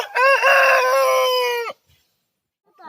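A rooster in a backyard coop gives one loud, close crow lasting under two seconds, followed by quiet.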